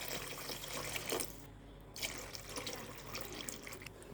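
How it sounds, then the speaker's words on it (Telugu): Water is poured into a potato and tomato curry, a continuous splashing trickle heard close and quiet, with a brief pause partway through. "కొన్ని వాటర్ పోసేసుకోవాలి"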